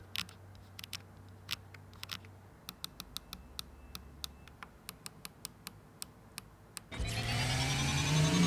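Typing on a HATOR Gravity TKL tenkeyless mechanical keyboard, with crisp separate keystrokes clicking at an uneven pace over a quiet background for about seven seconds, then a broad steady whooshing noise taking over at the end.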